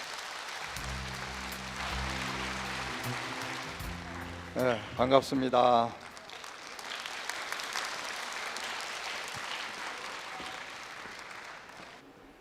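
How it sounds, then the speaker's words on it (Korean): Applause welcoming the monk Sanhong at a healing talk show: music plays first, then a voice briefly greets the crowd, and a broad, sustained wash of clapping from a large audience follows for several seconds. "산홍 스님을 여러분들의 따뜻한 박수로 모셔보도록 하겠습니다"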